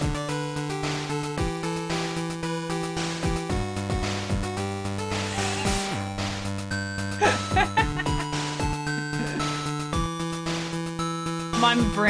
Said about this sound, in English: You turn on the game, you're in the village, it sounds like this.